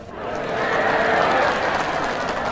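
Audience applause at an Islamic religious talk, a broad swelling wash of clapping and crowd noise that builds, holds, and then eases slightly.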